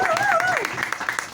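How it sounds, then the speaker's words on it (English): A comedy club crowd gives a warm round of applause for a stand-up comedian, scattered clapping building under a voice speaking over it at the start. "Give it up for a nice warm round of applause for Justin"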